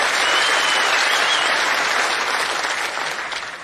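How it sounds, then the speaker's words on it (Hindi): A large audience applauds steadily at an event in honour of three daughters, dense continuous clapping that stays loud before tapering slightly at the end. "तीनों बेटियों का ताली बजा के स्वागत करें, अभिनंदन करें।"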